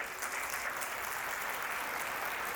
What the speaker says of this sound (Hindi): तालियां कमजोर रह गई आपकी